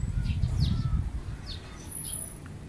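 A pet pigeon indoors with low, soft cooing rumbles and a few faint higher chirps, close by and alone without talk.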